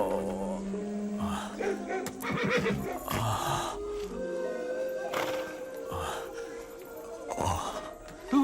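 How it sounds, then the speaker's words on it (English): A horse whinnies and neighs in a period drama scene where horses are being made ready for a ride, repeated calls at moderate distance over a busy background. "Prepare the horses."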